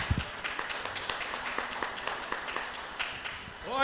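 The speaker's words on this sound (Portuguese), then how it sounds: "Você pode dar um louvor de palmas a Ele" A church congregation claps in praise during a sermon, scattered uneven handclaps over room noise, with a voice rising briefly at the end.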